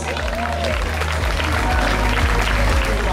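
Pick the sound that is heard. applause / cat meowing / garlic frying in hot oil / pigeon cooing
applause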